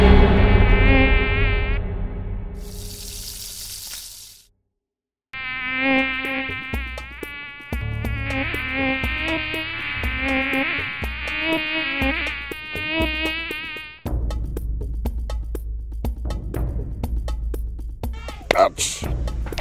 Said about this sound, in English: The dreaded dengue mosquito.